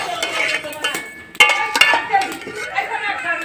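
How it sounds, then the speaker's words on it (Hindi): Chopped onions are stirred in a handi cooking pot, with a metal utensil scraping and clinking against the pot in close, irregular strokes, and voices murmur faintly in the background. "हांडी च प्याज मैं पा लाए हैं तो हूँ इन कर लेंगे मिक्स"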